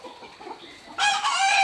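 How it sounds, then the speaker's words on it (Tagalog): Chickens on a farm where about 600 roosters are kept in breeding pens. Soft, scattered clucking gives way to a sudden loud, close rooster crow that rings out clearly. "Napakahirap magtago ng 600 pirasong manok."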